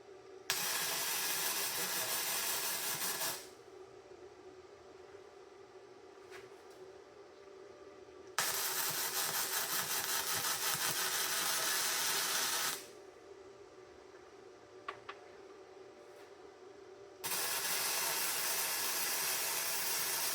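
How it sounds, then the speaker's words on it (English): An angle grinder runs close by while a shirt is tested against it, with three long, loud hissing grinding bursts separated by quieter pauses. "We're gonna see how it does when you start grinding."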